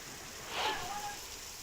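Steady rain falls during days of continuous downpour in rural Surat, Gujarat, a faint, even hiss with no other sound over it.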